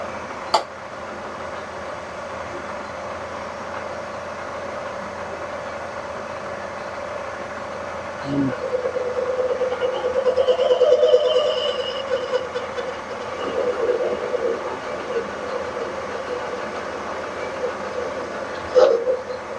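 A vintage Cincinnati machine runs steadily on its drive, a continuous mechanical hum with a faint whine and occasional sharp clicks, rising slightly in the middle, with no talk.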